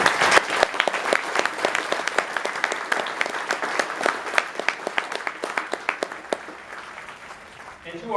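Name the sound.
audience applause for veterans at graduation ceremony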